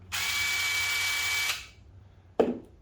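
A Dewalt cordless impact driver spins on its lowest speed setting, a steady high whine for about a second and a half that winds down, followed by a brief sharp clunk.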